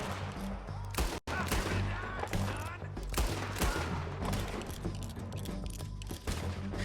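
Rapid pistol gunfire in Red Dead Redemption 2, a loud close burst of overlapping shots with a sharp cutoff and continued cracks of fire throughout.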